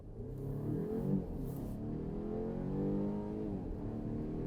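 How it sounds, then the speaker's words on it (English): A 2025 Volvo XC60 plug-in hybrid accelerating hard in Polestar mode, heard from inside as a rising engine drone with climbing harmonics, steady and moderately loud, with no talking. "I'm gonna put myself into Polestar mode, which is gonna be the best possible acceleration you're going to get inside of the ride"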